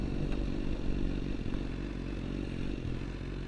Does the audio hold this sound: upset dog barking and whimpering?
no